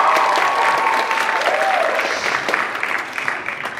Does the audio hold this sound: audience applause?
yes